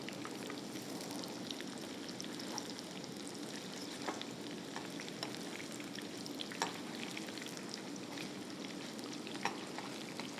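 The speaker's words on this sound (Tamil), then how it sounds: "அதர் சைடும் நல்லா ஃப்ரை ஆகணும்." Boneless chicken pieces fry in a pan for Japan chicken, a steady dense sizzle with scattered pops and crackles running throughout at moderate level, no voices.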